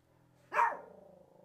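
A single short dog bark at a departing postman, a sharp close burst in a quiet room that fades quickly, with no talk.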